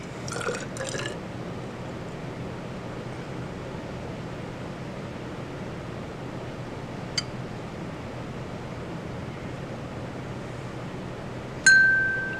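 Tablespoons of water are measured and poured into a glass while preparing red cabbage pH indicator dilutions, with brief close drips and splashes near the start, a quiet stretch, and a final pour at the end.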